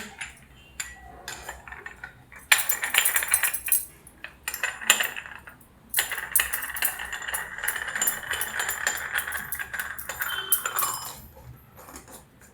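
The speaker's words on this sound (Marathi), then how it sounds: "सोऱ्या घेते सोऱ्यामध्ये भरते झाकण लावते" A metal chakli press clanks and rattles as it is filled with dough and its lid is fitted and turned, with a long run of scraping metal-on-metal rattling and clinks, close by with no talking.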